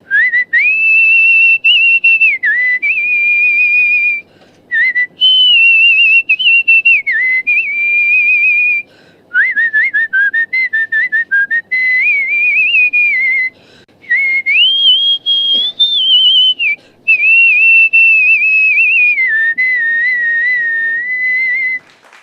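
A human whistling performance: a single person whistling a clear, melodic tune in sustained phrases with short pauses between them, loud and close with no other sounds.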